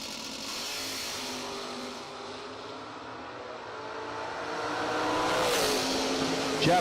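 Drag racing cars, including a 1967 Camaro, roar off the starting line at a door slammer nationals event, engines swelling from a distant drone to a louder surge.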